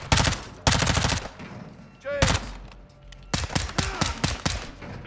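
Loud bursts of automatic gunfire in Call of Duty: Modern Warfare II, several rapid volleys separated by short pauses, with a voice speaking briefly between them.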